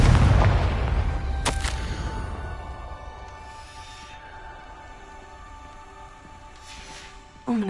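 Confringo blasting spell from Hogwarts Legacy: one loud booming blast opens, followed by a sharp crack and a long fading rumble with faint magical tones, ending in a sudden burst.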